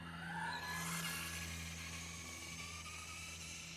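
Car engine in a driving video game revving steadily with a low droning hum, tires squealing briefly near the start, continuous and fairly loud with no talk.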